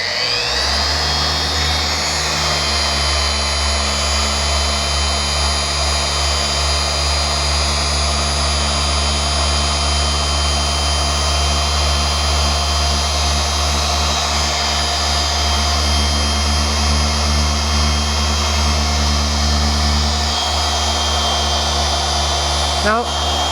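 Rotary polishing machine running at speed setting 6 on oxidised, stained metal under moderate pressure: a loud, steady electric whine with a strong low hum, continuous and close throughout.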